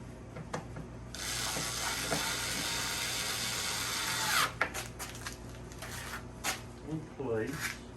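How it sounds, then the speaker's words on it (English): Power drill driving a couple of screws into a TV during a blue-screen repair, one long whirring run followed by short bursts and clicks, with a person talking afterwards. "I'm gonna put a couple of screws in it just to"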